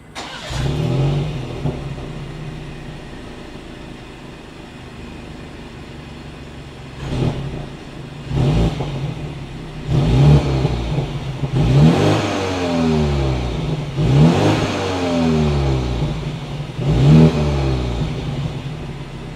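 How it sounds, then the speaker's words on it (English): BMW X4 M Sport coupe exhaust, a mid-pitched engine starting, then revved four or five times in repeated rising and falling bursts, loud and close with idle rumble between. "As always, here is that exhaust clip."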